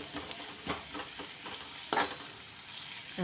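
Onions frying in a pan on the way to golden for a dosa side dish, with a steady close sizzle broken by a few scraping stirs of a spatula against the pan.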